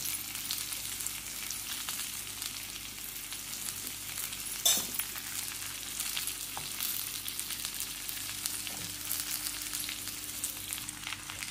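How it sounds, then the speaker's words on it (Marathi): About a cup of onion frying in a pan with ginger, garlic and chilli paste for wheat rava payasa, a steady close sizzle throughout with an occasional clink of a spoon against the pan. "आता ह्याच्यातच कांदा एक वाटी चांगला भाजून घ्यायचा."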